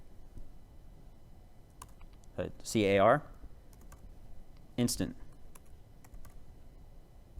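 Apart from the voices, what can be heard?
typing on a computer keyboard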